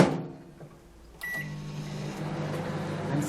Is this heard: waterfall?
no